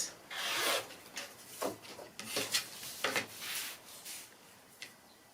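Scissors or a rotary cutter trimming a foundation-pieced quilt block along a printed dotted line, heard as a series of soft close scraping and rubbing strokes with small pauses between them, quiet and without voices.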